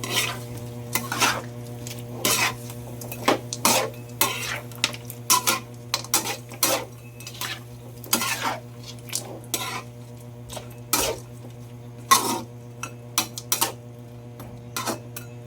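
Chicken adobo is stirred in a pan, giving repeated scraping and clinking strokes in an irregular rhythm over a light sizzle and a steady low hum.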